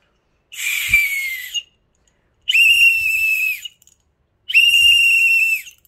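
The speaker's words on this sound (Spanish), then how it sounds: "lo que yo te recomiendo es para eh, entrenar a tu cuerpo a que se acostumbre a respirar cuando golpea la bola, es que juegues con un silbato." Three short whistle blasts, each about a second long, sound loud and near, separated by brief silences.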